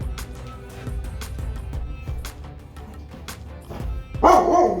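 A dog barks in a home kitchen during cream cheese making, with short, close, fairly loud yaps and a burst of louder barking near the end.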